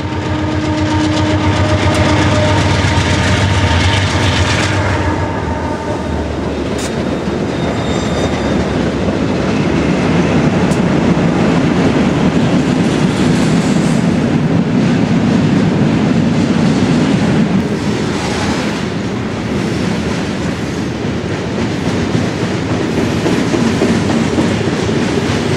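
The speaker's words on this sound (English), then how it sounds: "This is Q544, mixed freight," Northbound mixed freight train Q544, running from Waycross to Montgomery, Alabama, on the Fitzgerald Sub, rumbles past loud and close with steady rolling roar, clickety-clack of wheels and brief squeals, and no voices.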